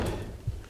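A door on a 1973 Chevrolet C10 truck swung against a frame that will not let it latch: a short muffled thud and rattle, close and brief, with no voices.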